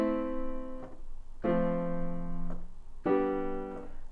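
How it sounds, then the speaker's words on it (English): Piano sounds three sustained chords of a common pop progression, each struck cleanly and left to ring with a short gap between, close and moderately quiet. "So a chord progression might sound like this."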